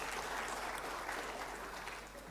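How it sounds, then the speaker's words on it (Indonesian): Applause from an audience honoring politician Nurdin Halid, a steady wash of clapping at moderate volume that fades a little toward the end. "Tepuk tangan lah buat Bang Nurdin Halid."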